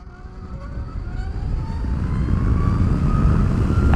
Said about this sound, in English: I'm going to romp on this throttle a little bit because I like feeling 140 foot-pounds of torque